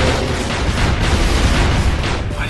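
A dense, roaring blast fills the whole stretch as an enemy explodes in the video game Shantae Risky's Revenge, loud, broadband and sustained with rumbling texture and no pauses.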